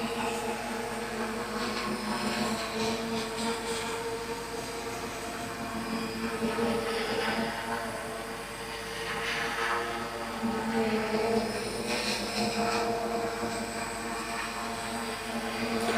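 A VTT drone hovers about 20 meters up and gives off a continuous, even propeller drone with a steady hum that swells slightly at moments, at a moderate distance and without talking.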